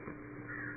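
Crows caw faintly and briefly by a river island, the calls thin and muffled beneath steady background hiss.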